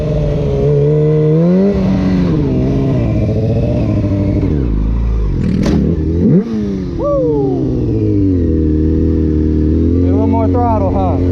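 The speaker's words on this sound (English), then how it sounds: "Throttle, huh? A little more throttle. Let's turn that idle up a little bit." A stunt-riding machine's engine revs hard under throttle, loud and close, its pitch sweeping up and down before dipping and climbing again to a higher, steadier idle.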